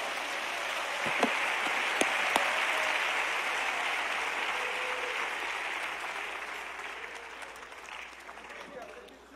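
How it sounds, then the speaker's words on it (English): Church congregation clapping hands together at a Pentecostal service, a dense, steady wash of applause filling the room for several seconds, with a few sharper claps standing out near the start before it slowly thins toward the end. "Clap your hands with me."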